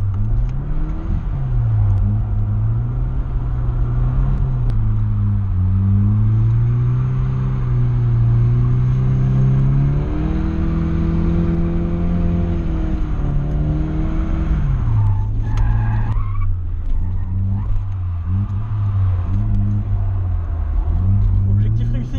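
A car drifts on a track in the Bourbonnais, with its clutch being worked hard. The engine revs loud and steady as the pitch rises and falls through long slides, and tyre squeal and rumble come in near the end.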